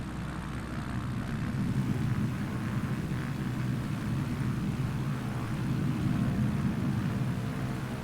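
A jet aircraft engine in Microsoft Flight Simulator gives a steady, full-bodied roar that holds at an even loudness for the whole stretch, with no voices over it.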